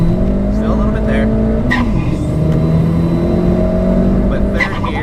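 A Ford Fiesta ST on KW coilovers pulling hard in third gear up an on-ramp, heard from the cabin: a loud, rising engine drone with a brief dip and recovery, while a driver talks over it.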